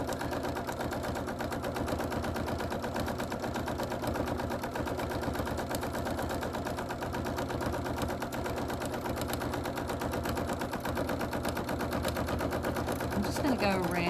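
A sewing machine stitching around a flower head on a quilt background, running in a fast, continuous needle chatter for the whole stretch, close and steady, with a brief change near the end.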